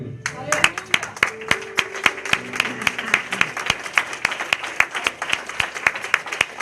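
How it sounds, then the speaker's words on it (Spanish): A church congregation claps in a fairly steady rhythm of sharp, distinct hand claps, with a voice and sustained musical tones underneath at the start. "Dale un aplauso a Dios."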